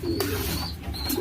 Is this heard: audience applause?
no